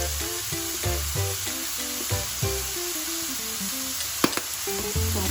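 Taco filling sautéing in a pan, a soft, steady sizzle and frying hiss with occasional stirring scrapes and one sharp clink, quiet and close.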